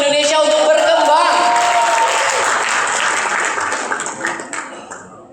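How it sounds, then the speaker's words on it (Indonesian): An audience at a national Rohis congress in Indonesia gives loud, sustained applause that fills the room with dense clapping and some voices, then thins out toward the end. "Sekali lagi kasih tepuk tangan yang luar biasa untuk Arafi."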